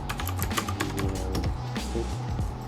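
Typing on a 60% mechanical keyboard at a desk: quick, steady clicking keystrokes, close and clear throughout, no voices.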